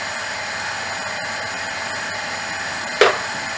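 A drill bores through a metal waste-oil manifold whose holes are slightly misaligned, so the bit pulls toward the larger hole from the other side; a steady, close, high whine runs throughout with a brief sharp burst near the end.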